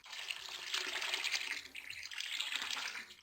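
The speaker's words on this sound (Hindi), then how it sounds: "इसके अंदर अब हम पानी डाल देंगे।" Water pours steadily into a pressure cooker holding wheat and rice for mutton khichda, a continuous close splashing rush lasting the whole stretch with no talk.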